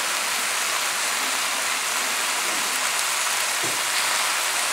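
Water pours steadily into a pot of pork and white cabbage, a continuous loud splashing rush at close range that keeps up without a break.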